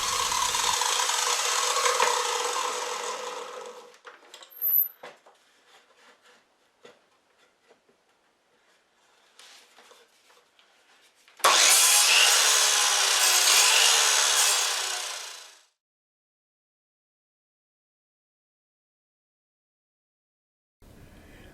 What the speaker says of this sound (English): I simply whacked through it with a chop saw